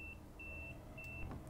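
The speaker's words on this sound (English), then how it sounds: "when it beeps, he's got to lift his foot off and put it back on again" Repeated electronic beeps of the driver vigilance pedal alarm in Train Sim Classic's Class 323 train cab: three steady tones over a constant low engine hum, with no talk.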